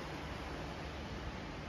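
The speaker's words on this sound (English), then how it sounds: "It is currently raining." A steady, even hiss of rain fills the air, soft and continuous with no other sounds.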